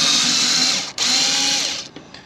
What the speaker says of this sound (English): let's just pop these 4 screws out